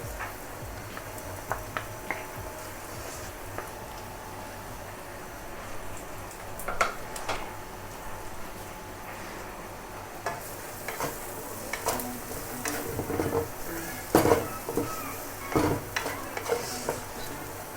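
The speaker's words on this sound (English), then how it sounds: "Now I'll add the shrimp." Shrimp sizzle as they hit a hot pan of fried noodles, with a steady frying crackle and the scrape and clatter of stirring and tossing, loudest near the middle and end.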